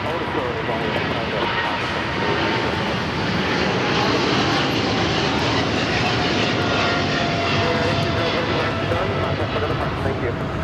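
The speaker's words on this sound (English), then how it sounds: "This is Korean Air Cargo 8208 taking off to Seoul." Korean Air Cargo plane taking off from runway 25 left at Los Angeles airport, a loud steady jet engine roar filling the whole stretch with broadband rumble, with talk heard faintly beneath it.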